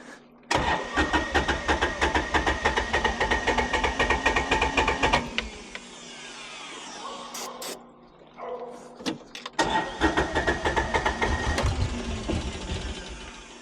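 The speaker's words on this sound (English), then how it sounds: "And a little squirt, and then try to start it again." A Kawasaki Mule 3010 engine cranks after a squirt of starter fluid: a long run of rapid rhythmic churning, a pause, then another stretch of cranking, loud and close, never catching.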